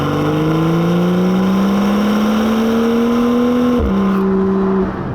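A BMW M2's engine revs steadily and smoothly, its tone climbing for several seconds before a brief dip and settle, loud and close with no talk over it.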